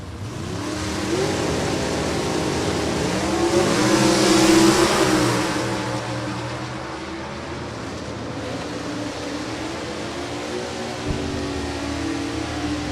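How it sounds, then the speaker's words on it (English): A drag car revs and surges, a Mustang GTE automatic with a 351 among the racers at an NHRA drag strip, rising to a loud peak then easing into a steady engine drone. "Jeffrey Lawrence, GTE automatic Mustang with a 351."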